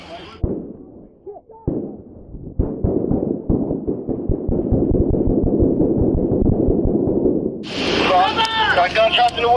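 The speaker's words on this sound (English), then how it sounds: "Got gunshots in the woods, guys." Gunshots in the woods during an ambush on a police K-9 tracking team: a fast, sustained volley of sharp cracks rings out after a few scattered shots, then excited voices break in at the end.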